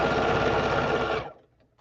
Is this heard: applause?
no